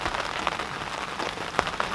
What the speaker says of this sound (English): Well, it's still raining